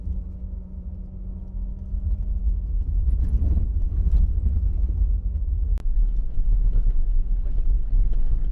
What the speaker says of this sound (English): It is incredibly windy here